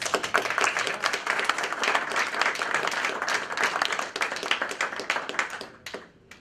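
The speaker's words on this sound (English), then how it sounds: "let's give Security Metrics a round of applause" An audience at a university cybersecurity club meeting claps, crisp individual hand claps blending into steady applause that tapers off near the end.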